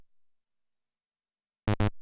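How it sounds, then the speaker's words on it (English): Laser clap from a Korg Minilogue built on VCO2 with the pitch envelope: two quick, bright, loud zaps in close succession after a long stretch of silence. "To make the laser clap, I'm going to turn down VCO1 and turn up VCO2."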